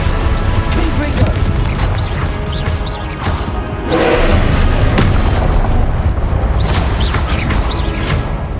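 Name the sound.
Confringo explosive curse blast in video game Hogwarts Legacy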